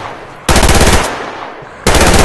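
Loud bursts of automatic gunfire in the online shooter Survarium, one sustained volley of rapid shots, a brief lull with quieter background fire, then another loud burst starting abruptly near the end.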